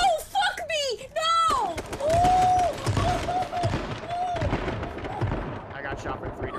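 Gunfire and explosions rumble in a multiplayer shooter game, with heavy booms and shots that are partly masked by excited voices and shouting.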